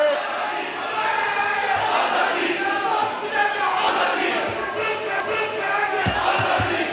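A crowd of lawmakers chants slogans in Pakistan's National Assembly, a dense, steady roar of many voices that continues without a break.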